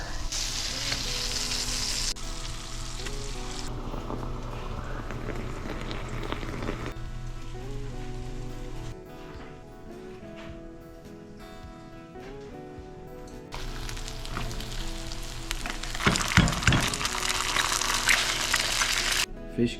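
Fish cakes sizzle steadily in plenty of butter in a pan, with a dense continuous frying hiss, occasional stirring and scraping, and the sound swelling louder near the end.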